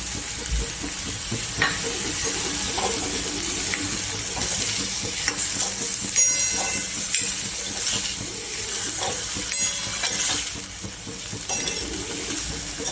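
Snack masala mixture for a Kathiyavadi batter snack, stirred in a pan with salt, gives a steady sizzle under continuous scraping and light metallic clinks from the spoon against the pan.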